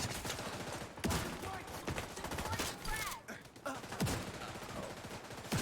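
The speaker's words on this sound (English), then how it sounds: "I am being shot at." Gunfire in the online shooter The Division 2 crackles in rapid bursts and scattered single shots, moderately loud and layered with game ambience, while a player's voice is heard faintly in between.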